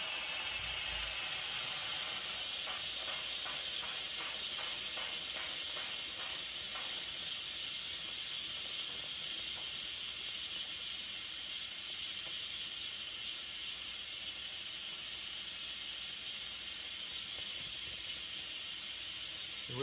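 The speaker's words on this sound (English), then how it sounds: "It's important to make sure that all the steam comes out." Steam venting from a pressure cooker during a beef and broccoli cook: a loud, steady hiss that fills the whole stretch, with a faint rattling valve sound early on and no talking.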